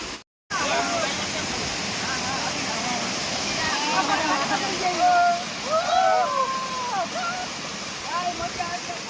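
A waterfall in Kutch roars continuously as a steady, full rush of falling water, with people talking and calling out over it.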